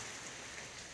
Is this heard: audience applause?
no